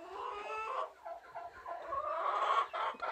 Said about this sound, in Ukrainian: Тут курка сидить, несеться.